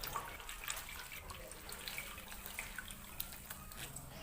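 Freshly washed papaya leaves squeezed by hand shed water in soft, faint drips and trickles nearby, with no voices.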